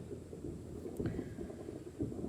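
Low rumbling thunder from a storm moving in over a farm with cattle, rolling continuously and swelling in a couple of deeper surges, with no voices.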